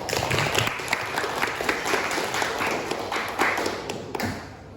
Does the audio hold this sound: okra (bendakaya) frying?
no